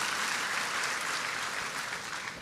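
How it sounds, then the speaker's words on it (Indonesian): A church congregation applauds during a sermon, a brief burst of dense, steady clapping heard from some distance, moderately quiet and without talk. "tepuk tangan Bu, tepuk tangan"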